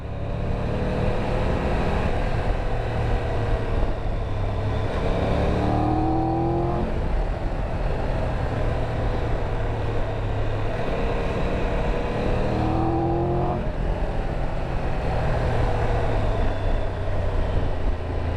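A 2022 Triumph Tiger 1200 motorcycle ridden fast, its engine roaring steadily and loudly throughout, with rising rev sweeps as it accelerates through the gears, plus constant wind rush.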